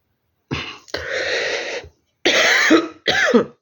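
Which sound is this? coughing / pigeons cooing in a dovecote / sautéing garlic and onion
coughing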